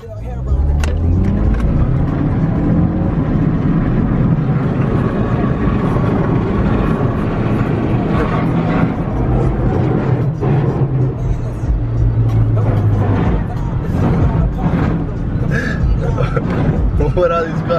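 Car in sport mode pushing through a flooded street in heavy rain, a constant loud roar of engine, road spray and wind across the whole stretch, with people talking over it.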